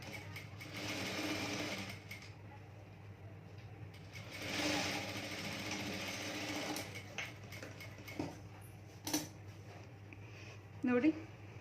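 An electric sewing machine stitches a blouse, its needle mechanism whirring and rattling close by in short runs that start and stop, with someone speaking between the bursts.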